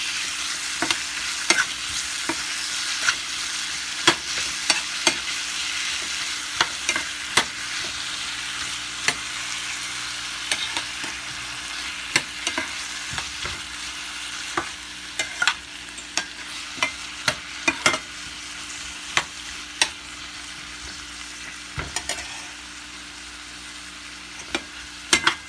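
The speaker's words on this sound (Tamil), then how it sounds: "தக்காளியை நல்லா வதக்கிடலாம்." Tomatoes sauté in a hot pan for pepper chicken gravy, a steady sizzle broken by frequent sharp clicks and scrapes of a spoon stirring, close and continuous with no talk.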